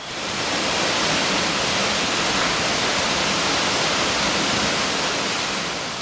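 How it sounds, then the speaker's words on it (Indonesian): A mountain river rushes steadily down slopes and through cliffs in a wild forest, a dense, loud, unbroken roar of flowing water that holds constant from start to finish. "Sungai mengalir dari puncak gunung, menuruni lereng, membelah tebing"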